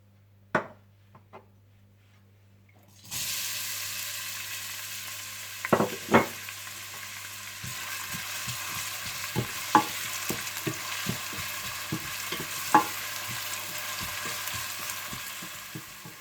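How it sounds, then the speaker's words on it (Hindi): Onions hit hot oil and sizzle steadily after a few quiet taps, with a utensil scraping and clicking through the frying as they brown for aloo gobi. "तो सबसे पहले आप ऑयल गर्म कर लीजिए और इसमें प्याज डालकर हल्के से ब्राउन कर लीजिए।"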